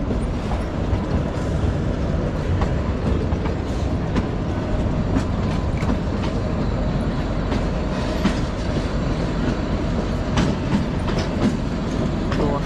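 The Kalka–Shimla toy train rolls along the rails with a continuous, loud rumble and a steady clickety-clack of wheels over the joints, heard from on board with no talking.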